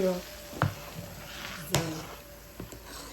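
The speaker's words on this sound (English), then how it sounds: "So I have my oil heated, and I'm going to put some in my beans paste." Hot oil poured and stirred into bean paste for moimoi, a soft low sizzle with a few sharp scrapes and knocks of the spoon against the bowl, close and fairly quiet.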